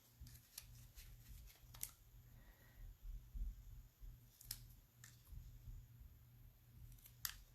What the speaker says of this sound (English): I'm just kind of cutting really close to the words. And then I'm just going to trim off the edges of each one.